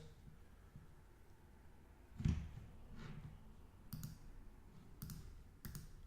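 Computer mouse clicks on a link, a few sharp close taps spread over several seconds against a quiet room background.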